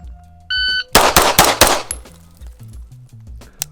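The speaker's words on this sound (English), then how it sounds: "Now we're gonna move to Hunter Constantine, where you actually just hold the gun like normal" Gunshots from a TTI Sand Viper gun held normally: a short electronic timer beep, then a rapid string of about four loud, sharp shots close by, followed by fainter metallic pings and clangs.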